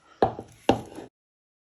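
Two sharp, close knife chops through an onion on a board, about half a second apart, each with a short thud, then silence.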